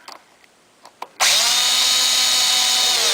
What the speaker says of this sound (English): Just going to tighten up the screws.